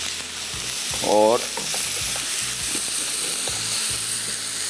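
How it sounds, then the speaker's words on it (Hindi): Minced meat frying in a pan, a loud, steady sizzle with scraping from stirring and a short squeak near the start, with a single spoken word and otherwise no talking. "कीमे को थोड़ा सा फ्राई कर लिया"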